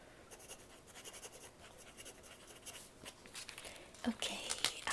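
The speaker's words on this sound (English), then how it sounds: "Let me write that down." A pen scratching across paper in quiet, close strokes, faint and soft in an ASMR setting, with brief sharper scribbles toward the end.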